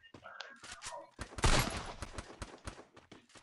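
Rapid bursts of video game gunfire crackle loudly, one heavy volley near the middle, scattered shots around it, mixed with shouting players.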